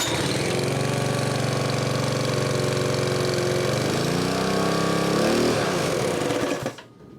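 A Honda GX140 gasoline engine runs on a Jenny gas-powered air compressor with a loud, steady close-up chug, its pitch shifting briefly near the end before it sputters and cuts out into quiet.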